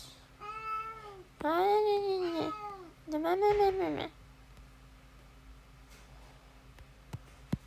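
A pet cat meows insistently for attention, three drawn-out close meows in quick succession, followed by quiet room tone and a couple of faint clicks.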